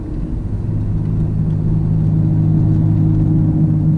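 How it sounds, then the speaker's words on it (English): A car drives slowly along the lakeshore road at Big Bear Lake, California, after rain, its engine a steady low rumble with continuous road noise heard from inside the vehicle, unchanging and fairly loud. "we're just gonna drive this part of the lake really slow unless we get cars right behind me"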